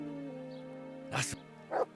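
Dog barks in the medieval role-playing game Kingdom Come: Deliverance: two short, fairly close yips heard apart, over a steady low game hum.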